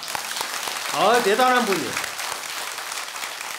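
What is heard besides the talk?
audience applause at a Buddhist dharma talk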